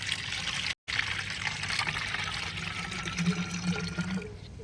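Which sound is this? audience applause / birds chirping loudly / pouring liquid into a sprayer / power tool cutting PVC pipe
pouring liquid into a sprayer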